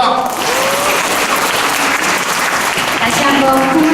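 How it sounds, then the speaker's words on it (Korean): A concert audience in Korea claps in a dense, sustained burst of applause, loud and close, with voices faintly audible underneath. "다시 한번 큰 박수 부탁드립니다"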